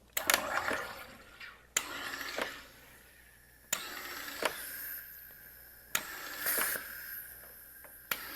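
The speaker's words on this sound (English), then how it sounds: "In the manual carbonators, you're going to want to do short 1-second bursts." A SodaStream manual carbonator pushes gas into chilled water in four short, sharp hissing bursts with quiet gaps between them, heard up close.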